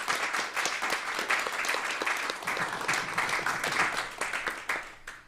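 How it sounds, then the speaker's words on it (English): A museum event audience applauds its panelists with steady, dense clapping that holds throughout at moderate distance, with a faint murmur beneath. "Could you please join me in a round of applause for our panelists?"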